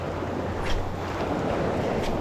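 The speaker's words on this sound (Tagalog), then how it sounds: "Yan pa ang alon, ang laki oh" Big ocean waves surging against rocks at a seaside fishing spot, a steady loud wash of surf with wind buffeting the microphone and no voices.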